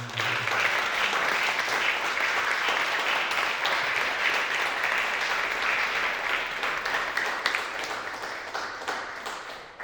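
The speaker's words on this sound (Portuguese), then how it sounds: "Eu gostaria de pedir uma salva de palmas." Sustained, dense applause from a large audience at a film legends tribute ceremony, steady and full for the whole stretch, tapering only slightly near the end.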